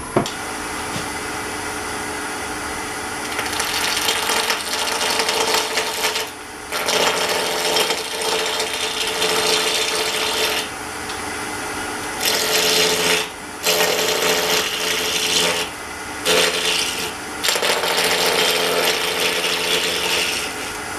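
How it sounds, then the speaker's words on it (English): A 1/2 inch spindle gouge hollowing the inside of a wooden tulip on a lathe, a loud, steady scraping hiss of wood being cut, broken by a few brief pauses between passes. "I'm going to be using about a 1/2 inch spindle gouge"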